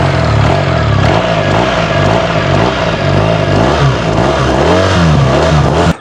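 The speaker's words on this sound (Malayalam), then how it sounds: "ആ ബോക്സർ എഞ്ചിൻ കണ്ടില്ലേ," A 2024 BMW R1300GS boxer engine revs hard up close, a loud continuous growl whose pitch climbs and dips repeatedly before cutting off sharply at the end.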